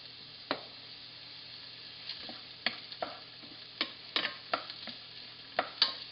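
Onions and garlic fry in olive oil with a soft steady sizzle, punctuated by sharp scraping clicks of stirring at irregular intervals, close and quiet.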